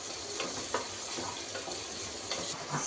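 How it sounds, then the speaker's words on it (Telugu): Onions and green chillies fry in a pan with a steady, fairly quiet sizzle and faint stirring, no voices over it. "ఇవి దూరగా ఫ్రై అయ్యే వరకు ఫ్రై చేసుకోవాలి"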